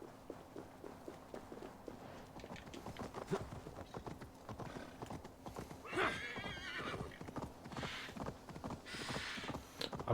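Horse hooves clip-clop at a steady run in the Assassin's Creed Valhalla video game on Xbox Series X, a close, regular beat with occasional whinnies and a brief voice over the galloping.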